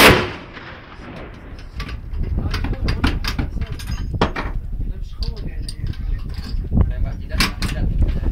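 An SPR-2 sniper rifle fired during an Indonesian Army test: a loud, sharp report at the very start, followed by lingering rumble, rustling and small metallic clicks and clinks nearby.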